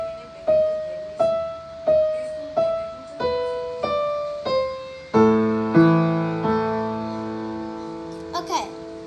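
Piano playing the opening of Für Elise slowly, single notes rising and falling one at a time, then fuller chords ringing out and decaying; close, moderately loud, with no talking over it.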